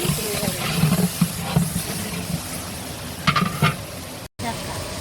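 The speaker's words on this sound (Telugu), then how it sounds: "ఇది ఎర్రగడ్డలైతే బాగా ఫ్రై అయ్యాయి కదా" Onions frying in a large pot for a 15 kg home-cooked chicken curry: a steady crackling sizzle under repeated scraping stir strokes, close by, with a brief cutout near the end.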